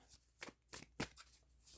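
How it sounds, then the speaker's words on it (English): Tarot cards being shuffled by hand during a reading, a few soft riffling bursts and flutters spaced out across a short, quiet stretch with no talking. "We're going to give these a shuffle."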